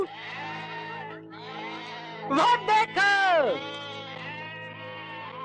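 A goat bleats loudly in a 1969 Hindi film scene, wavering nasal cries that rise and fall in several close bursts, with a voice speaking briefly alongside.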